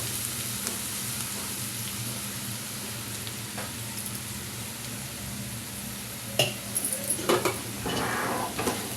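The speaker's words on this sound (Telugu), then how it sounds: "దీన్ని ఆయిల్లో బాగా ఫ్రై చేసుకుందాం." Bombay rava frying in oil with vegetables for khaarabath, a steady low sizzle joined near the end by a few sharp clinks and scrapes of a utensil against the pan.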